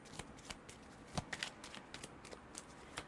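Tarot love cards being shuffled by hand, a quiet run of crisp riffling and flicking bursts with soft taps, close and alone with no talking.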